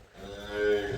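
A water buffalo gives a single short, close moo that swells and fades within about a second, with no talk over it.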